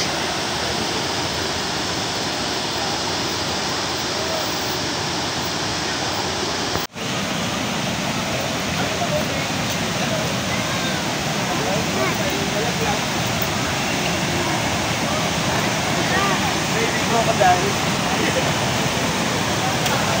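Kawasan Falls thunders with a strong, steady broadband rush of water up close, constant and loud throughout, with a brief dropout near the start and voices faintly mixed into the roar.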